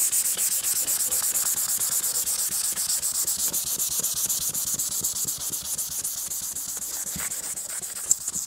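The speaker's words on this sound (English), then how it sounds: "So I'm going to rub them down" Metal parts of a Royal Enfield Classic 350 Reborn motorcycle are rubbed down by hand, giving a continuous close abrasive scraping hiss in quick repeated strokes, with no talking.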